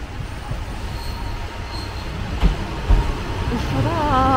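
JR Kiha 54 diesel railcar on the seaside Yosan Line, heard as a steady rumble of train noise with a couple of brief knocks and a rising whine toward the end, continuous throughout.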